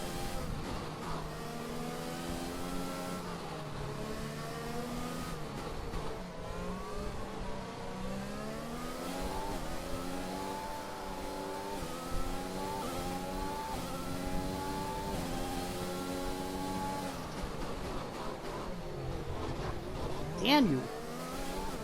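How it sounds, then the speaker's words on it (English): A Formula 1 car in F1 2021 revs hard, its engine pitch climbing and falling repeatedly through the gears, while someone talks briefly over the steady, close engine drone. "I gotta be careful with the throttle too, because I've been giving it too much throttle and spinning out."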